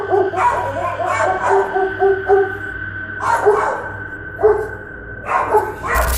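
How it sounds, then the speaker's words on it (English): Two dogs, a husky and a German shepherd, confronting a mountain lion in a driveway: repeated sharp barks and yelps in irregular bursts, close and loud over a steady low hum. "a mountain lion moves through his driveway and is confronted by two dogs"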